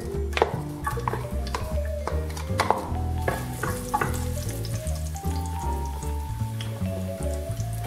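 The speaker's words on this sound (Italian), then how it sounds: "In una padella mettiamo dell'olio d'oliva," Onion and garlic sizzle and fry in olive oil in a pan, a continuous crackling hiss with clinks of a utensil stirring against the pan and no talking.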